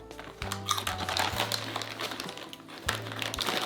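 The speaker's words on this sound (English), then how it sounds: "these packages are really hard to open" Crinkling of hard-to-open seaweed-flavored snack packaging, soft rustles and crackles repeating up close, with a low hum in the background and no talking.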